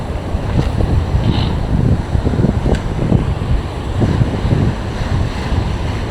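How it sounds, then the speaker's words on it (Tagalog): Strong ocean waves surge and crash on the shore, a loud, continuous roar of surf mixed with heavy wind noise buffeting the microphone. "Lakas ng alon na yun ah."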